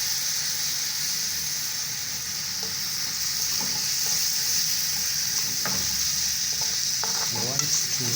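Carrot soup ingredients sizzling steadily in a pan while being stirred, with a continuous hiss and occasional soft scrapes and clicks from the spoon close by.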